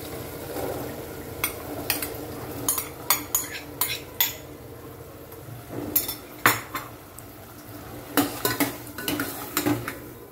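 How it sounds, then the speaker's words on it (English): A metal spoon stirs chana and softened tomatoes in a pot, with repeated clinks and scrapes against the sides over a soft sizzle. The stirring comes close and in irregular bursts, with no talking. "Give it a stir and mix properly."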